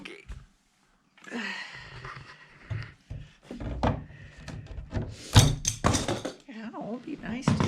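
Hammer and chisel tapping on an interior door hinge pin during a hinge replacement, giving a few sharp close knocks and thunks mixed with people talking nearby.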